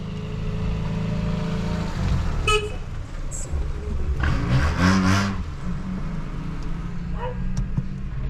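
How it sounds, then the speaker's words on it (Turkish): A Toyota fitted with a different exhaust passes close by on the road, its engine swelling and fading amid steady traffic rumble, with a couple of short horn toots and a brief voice. "Şu Toyota geçsin bakalım."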